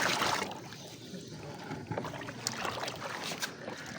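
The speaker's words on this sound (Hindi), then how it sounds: "गर्म पानी भी पा दे।" Hot water poured into a pigeon tonic mix makes a steady, close, splashy trickle that runs unbroken and fairly soft, with no one talking.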